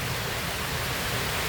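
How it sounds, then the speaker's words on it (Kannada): Heavy rain pours steadily outdoors, a dense, continuous wash of noise at even loudness with no voices. "ಜೋರು ಮಳೆ ಬರ್ತಾಯಿದೆ."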